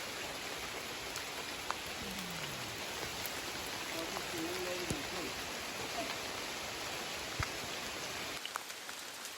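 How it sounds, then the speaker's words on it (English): Heavy rain pours through a Costa Rican cloud forest, a close, steady hiss of drops with a few scattered taps and bird-like chirps, cutting out abruptly near the end. "super rainy right now, but"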